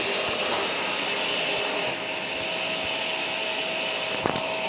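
A steady, loud whooshing roar like a vacuum cleaner in a Roblox parkour game runs continuously, with a brief click near the end.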